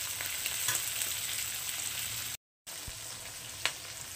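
Hilsa fish frying in oil for a mustard hilsa dish, with a steady close sizzle throughout, a brief dropout midway, and a sharper pop near the end; no one speaks.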